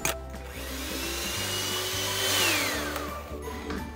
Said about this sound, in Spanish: Y pondremos esto a batir hasta que los huevos tomen un tono amarillo más clarito